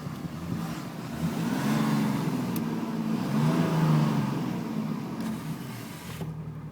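Diesel engine of a 2004 Dodge Ram 2500 with the 5.9 running nearby, a steady low rumble that swells and eases slightly over several seconds, heard alone without talk.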